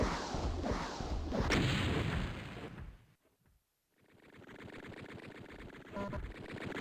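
Sustained enemy machine-gun fire in a first-person shooter game, a dense rattling barrage that stops briefly, then resumes as a steady, slightly quieter burst of rapid shots.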